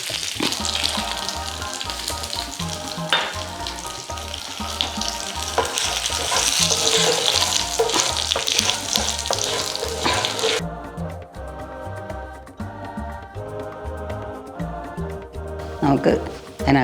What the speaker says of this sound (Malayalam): അതിനകത്തോട്ട് ഇച്ചിരി കറിവേപ്പില ഇട്ട് കൊടുക്കാം. ഉണക്കമുളക് അതും നമുക്കതിനോട്